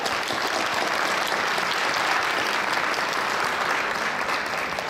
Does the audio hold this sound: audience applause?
yes